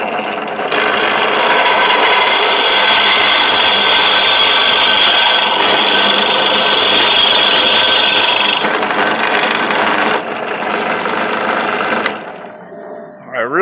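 A power drill with a 1/4 inch bit whirs steadily and close for several seconds as it bores through material, drops briefly, resumes, then stops. A short rattle follows at the end.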